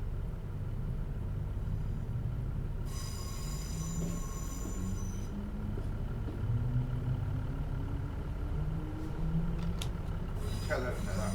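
A Class 86 electric locomotive pulling away in Train Simulator, a steady low rumble of motors and rolling wheels with rising whine tones and a brief high squeal, while someone talks over it.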